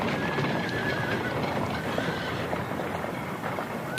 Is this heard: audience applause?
no